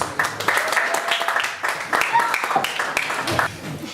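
An audience at a playback show claps in a lively burst of applause that lasts several seconds, with a presenter's voice speaking over it.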